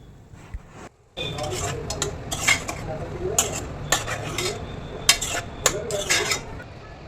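Kitchen clatter of a spoon scraping and stirring ginger, green chili and cashews frying in a pan, with repeated metallic clinks over a steady low background hiss.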